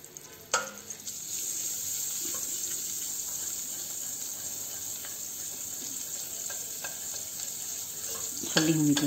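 Butter and a little oil melt in a pot over the flame, giving a steady, close sizzle and crackle that starts abruptly and holds for several seconds, with a brief clatter near the end and no talking.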